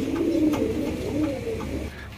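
A Danish pigeon in black diamond colouring coos at a pigeon farm, giving a close, steady, low warbling run of coos with a few soft rises, alone and without talk.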